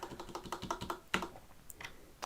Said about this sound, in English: We've unboxed the keyboard and now we're doing the typing test.